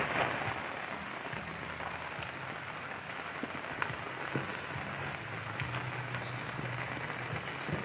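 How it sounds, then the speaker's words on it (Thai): Steady rain patters on a surface with scattered drips and occasional louder taps, soft and continuous throughout. "บรรยากาศฝนตก"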